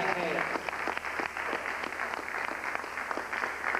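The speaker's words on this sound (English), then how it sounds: "So give him another round of applause and black hands." An audience claps in a sustained round of applause, steady and fairly close, with voices mixed in beneath the clapping.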